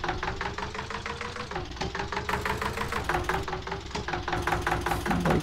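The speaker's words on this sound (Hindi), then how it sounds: "ये फैन वाला इंजन है, पर इसमें लगाया नहीं हमने पो इंजन" An Eicher 241 tractor engine idles steadily in Farming Simulator 19, giving a close, continuous diesel chug with a fast, even knocking rhythm throughout.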